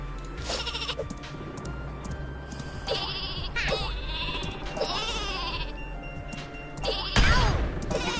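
Repeated sheep bleats from a sheep launcher in the game Worms WMD rise over a busy background of game noise and low rumbling, with a loud burst near the end.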